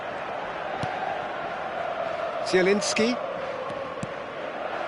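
A stadium crowd in a football video game murmurs and swells in the background while a commentator talks over it, with a few sharp knocks and a brief louder burst near the middle.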